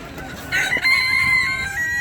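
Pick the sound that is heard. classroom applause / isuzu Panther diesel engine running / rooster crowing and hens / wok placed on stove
rooster crowing and hens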